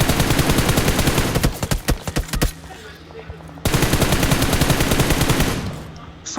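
A UMP submachine gun fires in a shooter video game, long loud rapid bursts, then a string of separate shots, a short lull, and another sustained burst close up.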